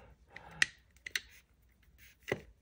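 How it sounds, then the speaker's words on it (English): Avet Superman fishing reel, locked, producing a few sharp, sparse clicks spaced irregularly over a couple of seconds, close and fairly quiet against near silence, without speech. "And you lock it, and then you got this clicking sound here."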